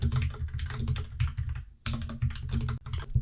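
Rapid, close typing on a computer keyboard with dense clicking keystrokes and a brief pause midway; no talking.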